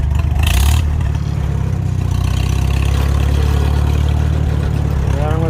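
A 1943 Farmall H tractor engine idles with a steady low, rumbling chug throughout, loud and close, after a brief louder burst at the start.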